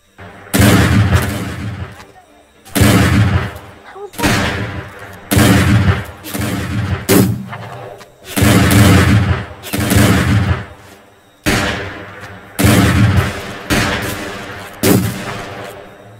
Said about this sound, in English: Shotgun spam.